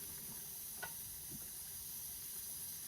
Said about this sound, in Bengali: এই যে বলক আসতেছে।